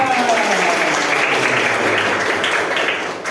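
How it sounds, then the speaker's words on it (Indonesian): A classroom of students bursts into loud, continuous clapping after a warm-up exercise, the applause holding steady before tapering slightly at the close. "Baik, tepuk tangan"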